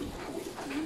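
A racing pigeon kept as a foundation breeder coos softly in a short, low, throaty burst, heard close up and faint, with no voices.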